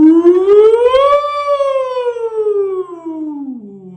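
A single voice imitates a siren on an "ooh" vowel, sliding smoothly up and then gliding slowly down in pitch, loud and close.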